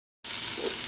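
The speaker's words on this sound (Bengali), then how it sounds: "এবারে জল ঢেলে দিলাম।" Water poured into a hot pan of frying vegetables for a quick vegetarian curry, a sudden loud, steady sizzle and hiss that bursts in after a short silence and holds close.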